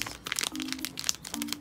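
A plastic bag from a Poopsie Slime Surprise slime toy unboxing crinkles and rustles continuously up close. The crackles come in quick irregular bursts over a faint steady hum.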